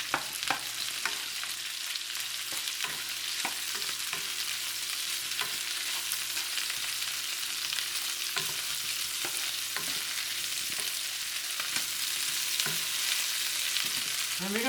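Sliced jumbo and regular onions fry over high heat in a hot pan for pork riblets, a steady close sizzle punctuated by frequent clicking scrapes of a utensil stirring, no voices.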